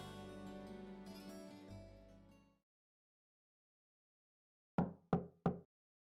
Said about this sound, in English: Knock and enter.